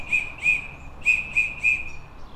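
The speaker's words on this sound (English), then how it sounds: "generally 3 whistles repeated like that is an emergency." An emergency whistle sounds in short, shrill, close blasts, two groups of three quick toots separated by a brief pause, loud and clear with nothing else heard.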